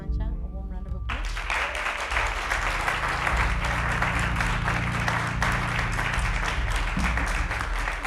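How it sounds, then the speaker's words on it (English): A short spoken moment gives way to sustained, dense audience applause at a church book launch, steady and fairly loud for several seconds, with faint voices mixed in. "Can we please give Pastor Mantsha a warm round of applause?"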